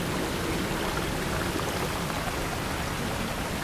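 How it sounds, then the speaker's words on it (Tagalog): A forest stream on a Mount Purro hiking trail flows steadily, a dense, even rush of water filling the space without pause and with no voices. "Sarap pakinggan ng batis."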